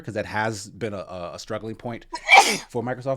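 One sharp sneeze bursts out in the middle of a spoken exchange, loud and close, with talk just before and after it.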